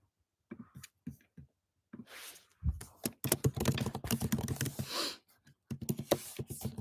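Close typing on a laptop keyboard, scattered key taps at first, then a fast, busy run of clicks with brief pauses.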